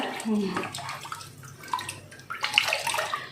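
Lemon pulp water is strained through a sieve, giving irregular splashing and trickling in short bursts close by, as a person talks over it.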